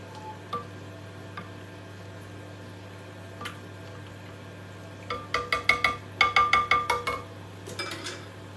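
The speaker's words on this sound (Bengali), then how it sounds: "এখন আমি তোরা পানি দিলাইমু দিয়া পানির লগে মিক্স করে লাইমু" A spoon clinks and scrapes against a cooking pot while mashed potatoes are mixed with water, in quick rhythmic taps that build into a busy run near the end. Faint hum underneath.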